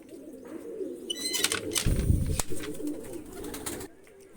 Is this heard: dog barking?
no